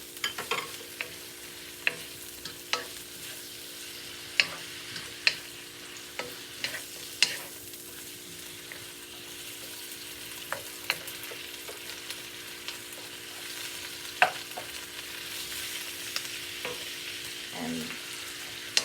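Baby pak choy stir-fried with rice noodles in a hot pan, a constant soft sizzle broken by repeated sharp clinks and scrapes of a utensil tossing the food.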